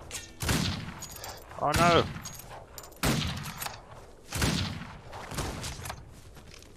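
Gunshots in the Outlaws of the Old West video game: three or four loud, separate shots spaced a second or two apart, and a man briefly exclaims between them.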